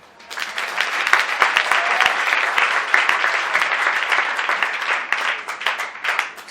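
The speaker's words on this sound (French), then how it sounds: "Si tu le crois, acclame le Seigneur." A church congregation bursts into loud, sustained applause in praise of the Lord, many hands clapping together close by and swelling before tapering off.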